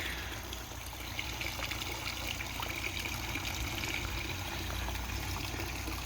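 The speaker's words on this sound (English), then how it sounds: "See, our pump is working" A pump circulates slimy green water for a witch's shack Halloween prop, giving a steady trickling, splashing flow that runs continuously at moderate level with a generator-like hum underneath.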